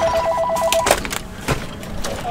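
A phone rings in GTA 5 Online, heard as a short electronic two-tone ring pattern that pulses a few times over clicks and game ambience before cutting off.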